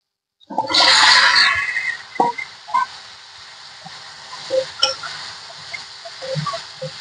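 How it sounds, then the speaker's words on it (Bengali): Moringa drumsticks go into hot oil left from frying rohu fish. A sudden loud sizzling burst quickly settles into quieter crackling, with a few soft clinks of the pan. "এবার মাছ ভাজার তেলে এই সজনে গুলো ভালো করে ভেজে নেব।"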